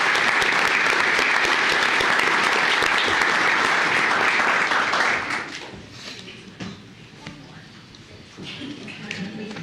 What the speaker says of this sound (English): let's give all these young people a big round of applause